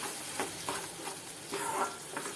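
Onion-tomato paste stirred and sautéed in a pan for a sweetcorn curry, a soft continuous sizzle with faint scraping strokes, brief and without voices.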